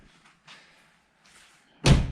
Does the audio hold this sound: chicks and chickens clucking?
no